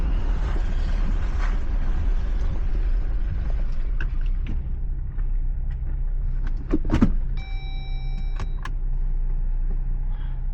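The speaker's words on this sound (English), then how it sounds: "Threw it in 4-wheel drive low." An off-road vehicle shifted into four-wheel drive low on a muddy hill climb: a steady engine rumble with a few sharp mechanical clicks and clunks, followed by a brief faint electronic chime.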